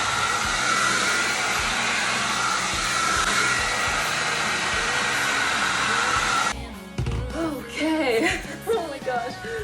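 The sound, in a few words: blow dryer drying hair with roller brush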